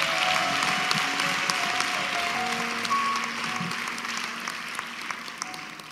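A church congregation applauds together at a ceremony, a steady wash of clapping from many hands that holds at an even level and tapers slightly toward the end.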